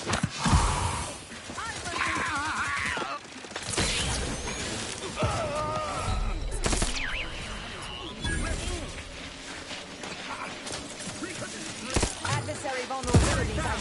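Gunfire from the video game The Outer Worlds 2 rattles in bursts and single sharp shots amid game effects and mechanical clatter, with voices speaking over the action.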